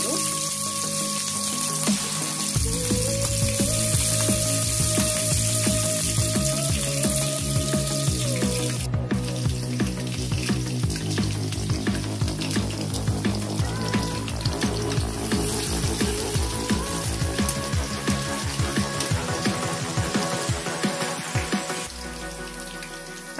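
Green chilies fry in a hot pan with a dense, bright crackling sizzle that stays loud and steady for a long stretch, then fades toward the end.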